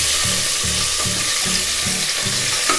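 Whole spices and cloves crackle in hot oil for a tomato rice dish, a steady close sizzle broken by a few rhythmic scraping strokes, with no voices.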